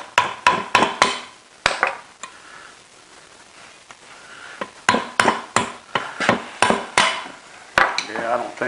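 A spanner wrench works a part loose on a Kearney & Trecker motor, producing sharp metallic knocks that come in quick bursts of several strikes, with a short pause between clusters, close and fairly loud.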